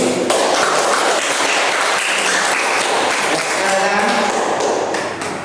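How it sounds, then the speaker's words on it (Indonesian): Audience applause at a school presentation exam, a steady wash of clapping that fills the whole stretch, loud and sustained with some voices mixed in. "Kita beri aplaus untuk kamu"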